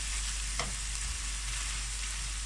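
Minced meat seasoned with salt, black pepper and red pepper flakes sizzling in a hot pan, a steady close frying hiss with one brief stir scrape near the start.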